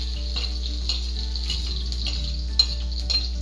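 Onions and garlic sizzle in hot oil in a pan for Filipino-style chicken yang chow fried rice, a steady close fry with a faint clink of a utensil partway through.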